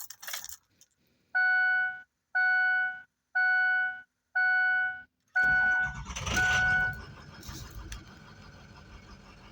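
A Ford Powerstroke 6.0 diesel truck sounds five evenly spaced warning chimes, then the engine cranks and fires into a loud rough rumble that settles into a steady diesel idle.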